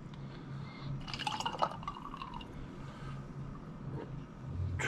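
White tequila poured into a glass measure for a Long Island iced tea cocktail: a short, close trickle and splash of liquid over quiet room noise, with no talk.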